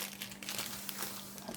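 A plastic salt bag crinkles and rustles up close in a home kitchen while lemons are being pickled, a steady crackling handling sound with no speech.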